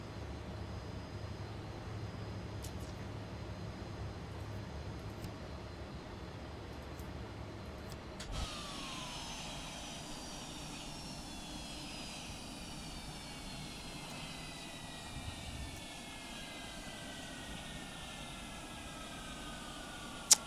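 Airliner engines spooling down in Microsoft Flight Simulator 2024, a steady jet whine and rumble that shifts partway through into slowly falling tones as the engines wind down, fairly quiet and without voices.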